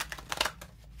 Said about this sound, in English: I can already tell by the way these cards are shuffling